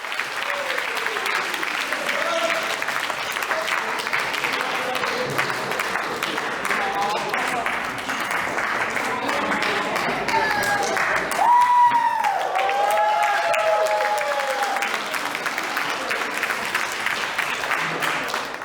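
Sustained applause from a large crowd at a wedding reception, steady throughout, with a brief whistle or cheer rising partway through.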